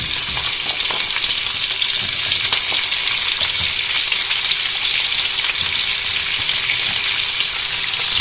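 Onions sizzle and fry steadily in a pan as they are glazed, a loud, dense, continuous crackle with small stirring clicks throughout.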